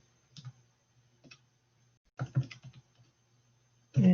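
Scattered keystrokes as numbers are typed on a computer keyboard, coming in a few short, quiet bursts separated by silence, ending in a louder cluster of clicks, with no talking.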